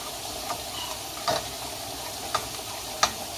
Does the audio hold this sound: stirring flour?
yes